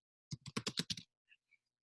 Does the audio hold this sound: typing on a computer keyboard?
yes